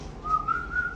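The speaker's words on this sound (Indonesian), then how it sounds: "Nah, kencang tuh siulnya." A person whistles a short, clear tone that wavers slightly in pitch, heard close and alone over faint background noise.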